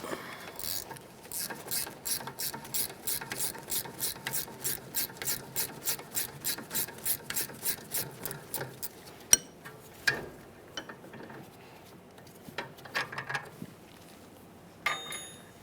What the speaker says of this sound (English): For this one, I'm using a ratcheting wrench.